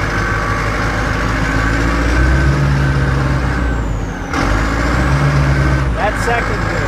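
A Caterpillar 936E wheel loader's engine runs loud and close as the machine reverses in first gear, a steady diesel rumble with a brief dip midway and a hiss near the end, with someone talking over it.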